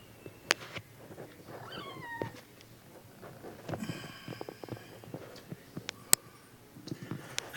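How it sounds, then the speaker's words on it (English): House cats meow in a room where snakes are kept, giving a few drawn-out, rising calls. The calls are fairly faint, with soft rustles and clicks between them and no talking. "Obviously, the kitties are in my snake room."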